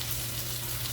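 Bacon and potatoes sizzle on an outdoor Blackstone griddle, a steady close hiss of frying fat with a low constant hum beneath, unbroken for a brief moment.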